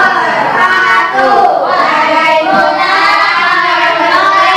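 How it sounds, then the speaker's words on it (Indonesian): Steady classroom applause from a group of students, loud and continuous for several seconds, a dense wash of clapping with a faint voice or two underneath. "Beri tepuk tangan dengan kelompok 1"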